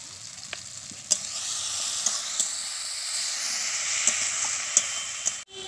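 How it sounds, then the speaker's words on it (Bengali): A spice masala is stir-fried in a pan, giving a bright, continuous hissing sizzle close by, punctuated by occasional sharp clicks of a utensil scraping the pan and a brief clatter at the end. "এবার বেশ কিছুক্ষণ কষাতে থাকবো। আর মশলা কিন্তু যত ভালো কষানো হবে তত ভালো টেস্ট হবে।"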